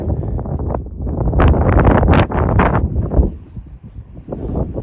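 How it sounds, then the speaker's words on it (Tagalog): Strong mountain wind at Praz de Lys, France buffets the microphone in loud, rumbling gusts that rise and fall, with no other sounds standing out. "lakas ng hangin dito"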